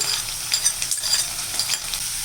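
Ground onion paste hits hot oil in a pan with a loud, steady sizzle and bursts of crackling spatter, stirred now and then, no voices.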